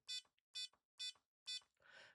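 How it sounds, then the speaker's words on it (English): A buzzer on a Circuit Playground board sounds four short, evenly spaced bursts, each sharp and harsh, followed by a brief noisy rustle. "my buzzer is going off every time I click it"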